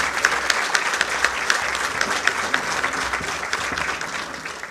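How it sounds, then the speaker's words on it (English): Audience applauding the Chief Justice of India at a formal event: steady, dense clapping from a large crowd, fairly close and even throughout, with no voices over it. "please give a big round of applause to the Honorable Chief Justice of India."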